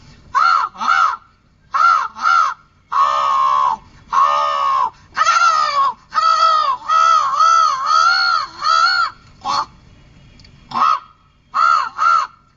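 At a Kerala school arts festival mimicry contest, a voice imitates crows cawing: loud, close, nasal caws in quick pairs and longer runs of varied calls, repeated throughout with short pauses.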